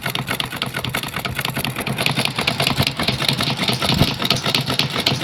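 A sewing machine stitches a plain blouse at a tailor's, running steadily and loudly throughout with a fast, even mechanical chatter and a low motor hum underneath.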